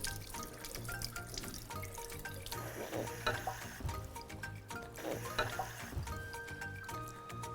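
Green moong dal is washed in water, with gentle sloshing, dripping and pouring sounds from the kitchen, faint and close, under soft background music.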